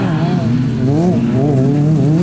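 Racing cars at a Heinenoord circuit final, a Toyota MR2 with a two-litre engine and a Toyota 1600, pass with a loud, sustained engine drone whose pitch rises and falls over about two seconds.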